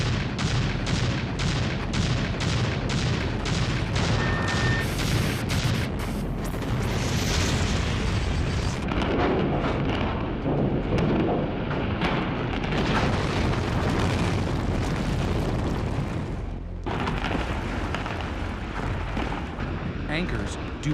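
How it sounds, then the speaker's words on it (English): Explosive charges detonate through a tower during a record building demolition, a rapid series of sharp blasts giving way to a long, loud roaring rumble as the structure collapses, with a voice talking over it. "Explosives in the upper levels go off."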